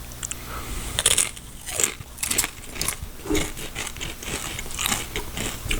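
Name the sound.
biting and crunching potato chips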